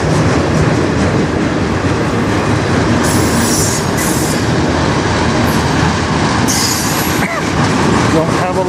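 A loud CN freight train rumbles steadily past close by, wheels clattering with occasional high metallic squeals over the continuous roar.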